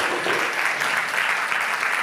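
A church congregation applauding the Lord during a Spanish-language worship service, a soft, even wash of clapping that holds steady throughout.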